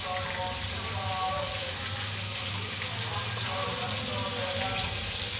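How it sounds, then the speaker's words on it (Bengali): Blended ginger, onion and garlic paste hits hot oil in a pan where potatoes for a rohu fish curry were fried, giving a steady broadband sizzle throughout with no talking. "এখন আমার ব্লেন্ড করে রাখা আদা, পেঁয়াজ এবং রসুনের পেস্ট এখানে আমি দিয়ে দিচ্ছি।"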